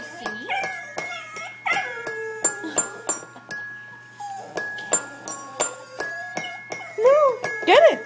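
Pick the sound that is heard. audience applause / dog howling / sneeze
dog howling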